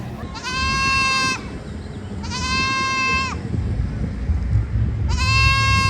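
Goats bleat three times in loud, close, wavering cries with pauses between them. A crowd murmurs in the background at an outdoor community grazing festival in Paradise focused on wildfire prevention.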